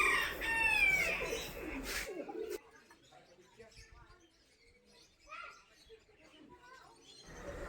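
Chickens and other birds call in the bird and poultry section of a pets park in Thrissur, with a burst of loud clucking and chirping at first, then sparser, fainter calls, while people talk nearby.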